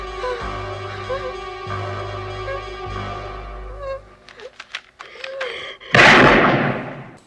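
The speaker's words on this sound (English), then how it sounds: "And gunshots make him fall down" Gunfire in a Halloween horror film scene, a rumbling soundtrack giving way to several sharp cracks, then a loud, harsh burst near the end.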